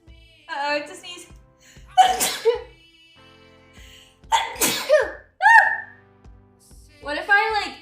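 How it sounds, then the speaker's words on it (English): A single sneeze breaks out amid animated, close speech, with voices talking before and after it. "Uh-oh, it's a sneeze."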